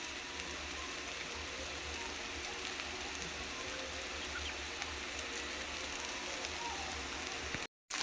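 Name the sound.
chickpea sundal sautéing with onion and chili in a pan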